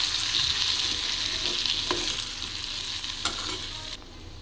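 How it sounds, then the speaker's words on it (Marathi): Stuffed ivy gourd curry frying in a pan with its leftover masala, a steady close sizzle broken by a couple of brief scraping stirs, no voices. "परत एकदा छानपैकी भाजी हलवून घेणार आहे."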